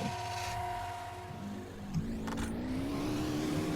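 A video game car in a homebrew build drives off, its engine note climbing steadily as it accelerates, a continuous mid-pitched whine that rises in pitch over a few seconds with no talking.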